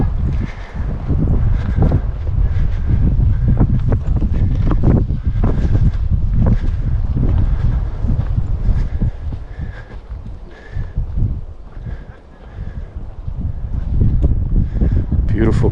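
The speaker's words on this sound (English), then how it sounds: "A little breezy on the rim again." Strong, steady wind gusting on a canyon rim at Bryce Canyon National Park, a loud rumbling buffet across the microphone with brief lulls, under faint voices.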